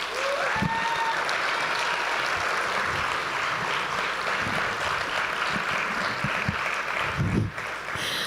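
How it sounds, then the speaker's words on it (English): Audience applause fills a high school gym at a comedy night, a steady, dense roar of clapping that holds for about eight seconds with no voices standing out. "Let's give everyone another round of applause."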